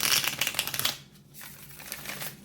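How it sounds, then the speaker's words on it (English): Tarot cards from the Enchanted Love Tarot deck riffle and slide in a dense, crisp burst for about a second, then soften into quieter papery rustling. "It shuffles so nicely."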